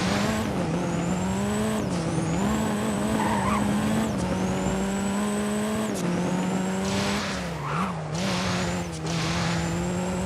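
KTM GT4 Evo race car driven in the video game Driving Empire, its engine revving up through repeated gear shifts with rising whines, brief tire squeals and skids, loud and continuous without speech.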